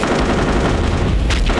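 Rapid machine gun fire from the Airfix Dogfighter toy-plane combat video game sounds as a dense, continuous, loud rattle of gunfire with a brief burst standing out near the end.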